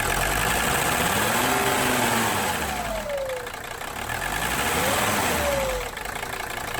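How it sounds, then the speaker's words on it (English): A Mercedes 300SD turbodiesel gets several throttle blips, its loud clattering engine rising and falling while the turbo whistles as it spools up. The sound is close and continuous under steady engine noise, with no talking. "You can hear the turbo spool up, so I know that's working."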